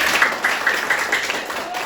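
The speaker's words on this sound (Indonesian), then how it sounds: "Tepuk tangan dulu untuk Ofir." Steady applause from a classroom group, a continuous patter of clapping with voices mixed in throughout.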